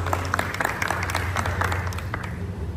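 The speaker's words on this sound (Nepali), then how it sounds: "अब चाहिँ बिम भाइ भन्दै हुनुहुन्छ मलाई ताली है," Applause from a crowd at a bike riders' meeting in Pokhara, Nepal, a dense patter of clapping hands held steady for a few seconds, close and fairly loud with no talk over it.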